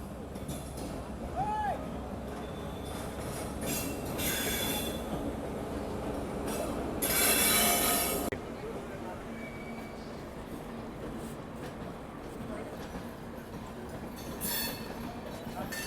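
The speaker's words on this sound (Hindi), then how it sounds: "सामने आ रही है ट्रेन नंबर 20504 नई दिल्ली डिब्रूगढ़ राजधानी एक्सप्रेस वाया लखनऊ वाराणसी। और ये यहाँ पहुँच रही है।" The New Delhi–Dibrugarh Rajdhani Express, diverted via Lucknow and Varanasi, rolls into a station with a steady heavy rumble of wagons and wheels, broken by a loud, bright burst of wheel squeal midway and fainter squeals after.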